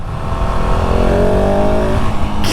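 A 2019 KTM 690 SMC R supermoto motorcycle's single-cylinder engine runs steadily in a loud, rumbling drone close by, with its pitch rising a little as it pulls, and a brief burst of wind noise at the end.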